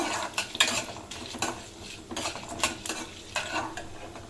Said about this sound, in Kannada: 1 ಸ್ಪೂನ್ ಅಷ್ಟು ಮೆಣಸು, 1 ಸ್ಪೂನ್ ಅಷ್ಟು ಜೀರಿಗೆ ಫ್ರೈ ಮಾಡ್ಕೊಳ್ಳೋಣ.